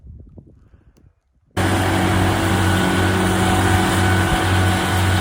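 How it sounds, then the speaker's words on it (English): A triple mower sets off across a hay field with a sudden steady engine roar after a near-silent moment, loud and continuous with a constant drone and no speech. "Chuck's taking off on the triple mower, starting a new land"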